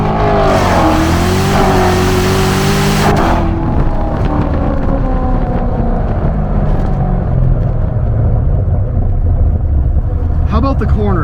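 Chevrolet Corvette C8 Stingray sports car engine revving hard while driving, a loud close roar rising and falling in pitch as it accelerates and shifts, with a person talking over it.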